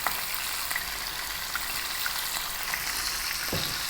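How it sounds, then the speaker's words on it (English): Chunky lamb pieces stir frying in a pan over above-medium heat, a steady, even sizzle with faint scraping and ticks, no talk. "I'm going to be stir frying that around"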